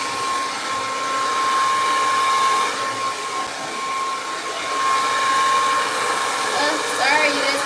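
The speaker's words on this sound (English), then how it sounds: "you guys gotta hear the blow dryer for a little second" A blow dryer runs continuously and close by, a loud steady whirring roar with a thin whine on top, holding for several seconds with a faint voice underneath.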